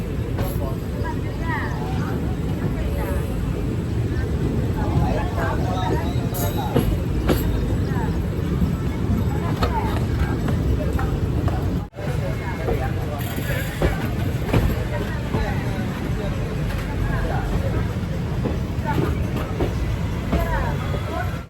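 A train pulls into Tirunelveli Junction railway station, arriving from Tiruchendur, with a loud continuous rumble and rolling noise throughout and someone speaking over it.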